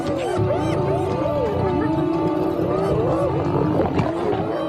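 A hungry, ferocious hyena clan crowds around newcomers on the African plains, with overlapping whoops, wails and growls forming a dense, loud chorus.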